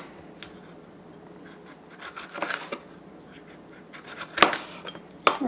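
Knife slicing through a green pepper set on its side on a cutting board, a few faint scraping cuts building to two sharp, close clicks of the blade striking the board near the end.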